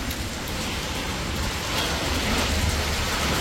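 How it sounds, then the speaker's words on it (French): Hail falling hard during a storm while driving toward France, a dense, loud, steady patter and hiss of pellets striking surfaces, with no talking. "Regardez, plein de grêle."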